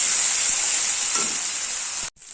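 Spice paste with salt sizzles and crackles in hot oil in a pan, with a steady bright fry that cuts out briefly near the end.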